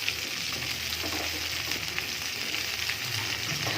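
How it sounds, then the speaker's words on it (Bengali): Okra frying in a pan over high heat, a steady close sizzle with soft crackle running evenly throughout, no voices. "আগে ঢেঁড়সগুলো ভালো করে ভেজে নেব।"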